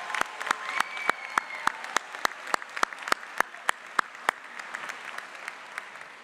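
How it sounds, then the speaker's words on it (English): Audience applause at a 2023 charter school graduation ceremony, a steady wash of many hands clapping, sustained and fairly near, with a few sharp louder claps standing out in an irregular rhythm. "Let's give a huge round of applause for our families."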